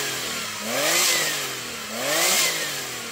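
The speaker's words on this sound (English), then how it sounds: "let's hear the 964, rev that up" Porsche 911 of the 964 generation, heavily modified with a straight-through aftermarket exhaust, revving twice in quick blips that rise and fall, loud and close with a raspy edge and no talk.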